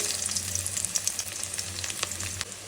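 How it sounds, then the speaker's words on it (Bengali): Chopped onions fry in oil in a wok, giving a constant, bright, crackling sizzle close by with small spits and pops throughout. "চুলায় কড়াই বসিয়ে দিছি এখন দিয়ে দিব হচ্ছে তেল এখন এই তেলের দিয়ে দিব হচ্ছে পেঁয়াজ কুচি"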